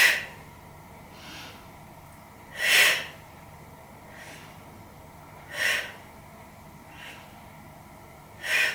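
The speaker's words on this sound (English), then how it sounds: "Breathe out." Three sharp, breathy exhalations during a Pilates hip and glute workout, spaced a few seconds apart, close and fairly loud over a quiet room.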